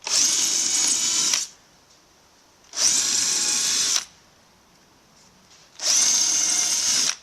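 A power drill boring air holes into a plastic worm compost bin, three loud, close whirring bursts of about a second and a half each, separated by short pauses, with no talking.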